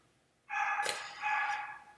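A dog barks in the background indoors, two short, fairly faint barks about half a second apart, with no talk over them.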